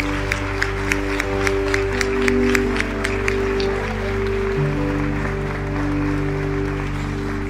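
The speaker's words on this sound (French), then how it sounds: "une bonne main d'applaudissements pour la récipiendaire du prix Aurore Racette 2024" Applause from a hall audience at a volunteers' ball in Saint-Jacques for a 2024 award recipient, steady clapping under a sustained hum of music or tones, with a few sharper claps standing out early on.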